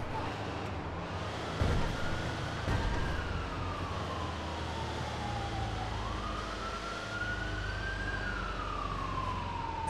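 A wailing police siren in the video game GTA 5 rises and falls slowly over a constant background rumble, moderately loud and sustained throughout.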